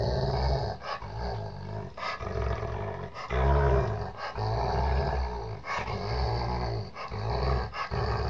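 A dog growls continuously in deep, rumbling playful bursts broken by short pauses, loud and close, with no talking.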